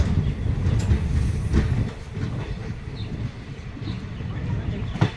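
The Kanchankanya Express rumbles steadily with rhythmic wheel clatter on the rails after leaving Hasimara station, heard from on board, with faint bird calls now and then.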